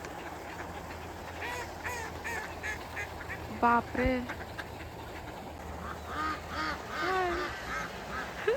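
Ducks quack repeatedly in short nasal bursts nearby in a snowy setting with black swans, over a steady outdoor hum, with a brief spoken exclamation in between.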